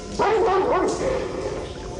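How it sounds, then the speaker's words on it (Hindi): A large, menacing dog in a Hindi horror audio drama gives a short, close yelping bark that bends into a whimpering whine. A single vocal burst lasts under a second over a low background hum. "नॉर्मल कुत्ता नहीं लगता"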